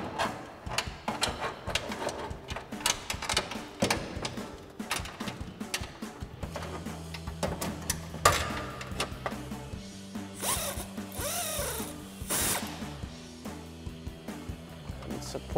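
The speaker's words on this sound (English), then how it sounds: "use our 10 mil swivel socket again with an extension on our ratchet" Someone works a ratchet with a 10 mm swivel socket and extension to remove exhaust bolts on a 2019-2024 Silverado/Sierra 1500, making repeated quick clicking ratchet strokes in bursts, close and fairly loud.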